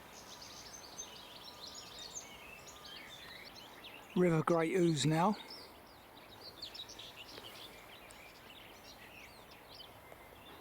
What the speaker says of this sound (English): Most of the birdsong is blackcaps and whitethroats